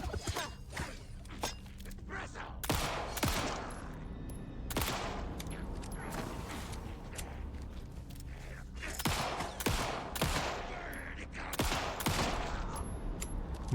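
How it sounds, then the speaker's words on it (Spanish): Repeated sharp crossbow shots snap in the game Alan Wake 2, irregularly spaced and fairly loud, amid clattering action sounds. "No entiendo por qué suelta el disparo de la ballesta"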